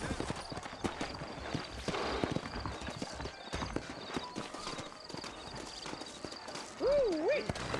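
Horses' hooves clip-clop steadily through a Red Dead Redemption Western town scene, surrounded by ambient game noise, and a horse whinnies near the end.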